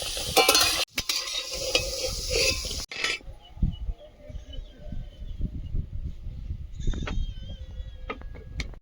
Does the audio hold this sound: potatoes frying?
yes